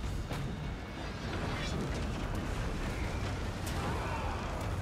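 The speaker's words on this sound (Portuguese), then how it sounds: "Tiro de artilharia de torre" Tower artillery fire in the video game Total War Warhammer 3 during a Cathay battle: a dense, rumbling wash of booms and sharp cracks that rolls on steadily throughout, fairly quiet.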